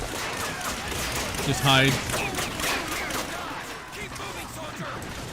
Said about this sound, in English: Now that machine gun is the MG42.